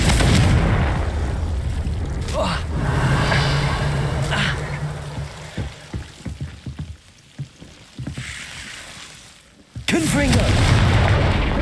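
Confringo fire-spell blasts in Hogwarts Legacy, with loud booming game explosions and a dense rumbling wash of effects, a short quieter stretch with scattered pops, then another heavy burst, all under a continuous game soundscape.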